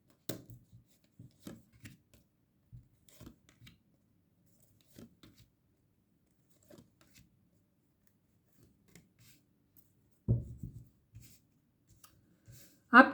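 Tarot cards shuffled by hand in a quiet room, a run of soft, sparse riffling taps and flicks with longer pauses, ending in a louder burst of shuffling.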